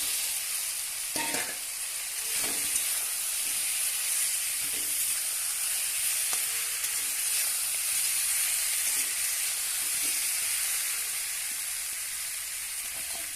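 Taro tipped into fried spices in a pan for a katla fish curry, giving a strong steady hiss of sizzling oil with occasional stirring knocks, close and continuous without speech.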